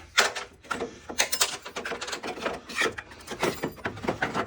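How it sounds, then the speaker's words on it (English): Plastic interior pry tool working trim off a 2014 Chevrolet Silverado 1500 WT bumper, with close scraping, rubbing and creaking plastic in quick irregular bursts. "I'm gonna use my interior pry toolbar, and that seems to be working better."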